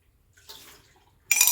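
Hot water from a Breville Barista Express BES870 espresso machine is tipped away: soft dribbling and clinking first, then a sudden loud splash at the very end.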